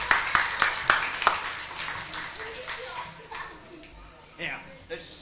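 A live magic show audience at The RCH in 1995 claps a short round of applause: a handful of crisp, separate claps up front that thin out and fade, with a voice talking underneath.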